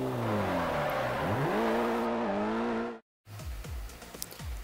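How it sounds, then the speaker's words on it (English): A car in the Forza racing game drifts through a corner, its engine droning and rising in pitch as it revs, then cutting out briefly before lower rumbling returns with rhythmic engine pulses. "as I want to finish the drift, I just lift off the gas and it lets me finish my drift"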